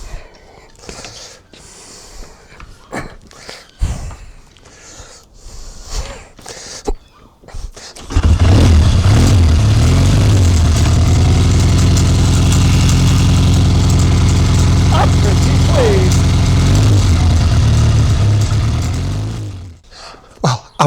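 A 1979 Triumph Bonneville motorcycle engine catches after several seconds of handling noises and settles into a loud, steady, lumpy idle close by that runs for about twelve seconds before cutting off.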